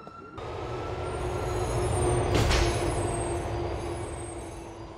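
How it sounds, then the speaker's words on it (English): A train pulls into a station in the video game GTA IV: a steady, loud rumble of rolling carriages swells and then eases off, with a brief bright screech of wheels or brakes midway. "Wait for the train to arrive."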